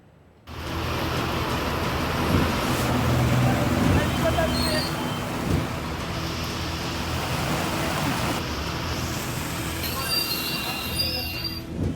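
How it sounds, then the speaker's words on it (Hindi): Heavy monsoon rain pours over traffic in Jaipur, Rajasthan, a loud, steady broadband wash that runs nearly the whole clip, with voices and passing vehicle noise mixed in. "मॉनसून की एंट्री के साथ ही राजस्थान में तेज बरसात का दौर जारी है।"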